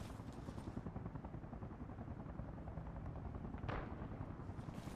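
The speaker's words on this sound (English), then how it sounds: "Am I hearing gunshots?" Distant gunfire in the military shooter Arma Reforger: a faint, steady crackle of shots rattling far off, with one slightly sharper burst late on and no talking.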